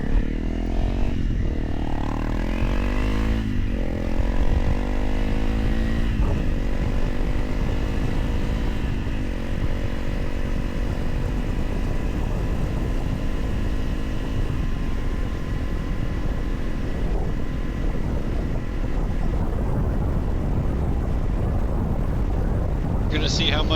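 Motorcycle on a short ride with a dog aboard, engine revving up and settling into a steady drone with audible gear changes, wind rumble heavy and close to the mic throughout.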